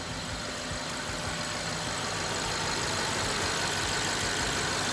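A 2013 BMW X5 50i with the twin-turbo N63 V8 idles steadily after an oil change, a continuous even drone close by with no revving or voices.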